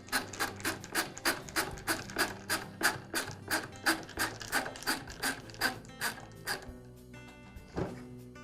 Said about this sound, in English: secure it back onto the saw with the screw